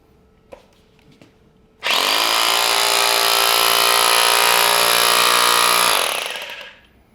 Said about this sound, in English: just a small chipping hammer, to generate some continuous vibrations into this art case